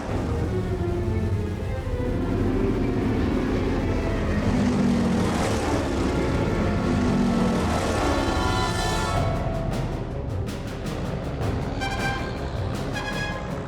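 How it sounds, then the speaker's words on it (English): Japanese propeller aircraft launching from a four-carrier fleet turned into the wind, a loud sustained engine roar and rushing drone that swells and fades, with faint clicking ticks near the end. "The fleet turns into the wind and starts launching its aircraft."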